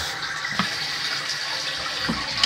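Water rushes steadily into a toilet tank being refilled after the toilet was reinstalled, a continuous close hiss with a couple of faint knocks and no voices.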